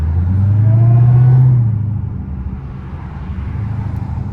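A supercharged Hellcat engine drones with a rising supercharger whine near the start, then eases off into a steady low rumble of passing traffic.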